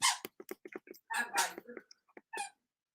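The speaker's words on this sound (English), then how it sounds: "as you can hear, he's playing with his squeaker" A dog playing with a squeaker toy, with quick, close squeaks in irregular bursts separated by short silences, some in rapid strings and others longer and drawn out.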